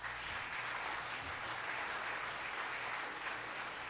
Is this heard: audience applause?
yes